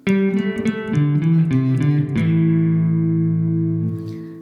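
A short run of single picked guitar notes, then a final note left ringing and slowly fading out.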